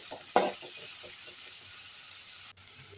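Onion frying in a pan for a beetroot palya, a soft continuous sizzle with faint stirring scrapes and one brief clatter early on, fairly quiet and without speech.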